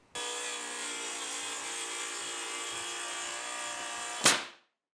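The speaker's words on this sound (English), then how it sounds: "We like to use our Makita rail saw." Makita rail saw cutting through a paper-faced saveBOARD internal lining sheet, a loud continuous whining cut that runs steadily for about four seconds, then ends with a sharp burst as the blade clears the board and spins down.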